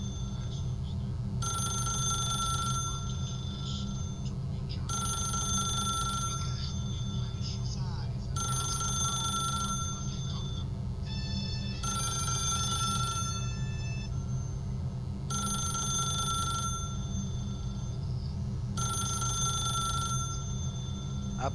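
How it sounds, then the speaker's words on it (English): Telephone ringing in The Stanley Parable video game, a bell-like ring repeating in six even bursts about every three seconds over a steady low hum and background sound. "pick up the phone."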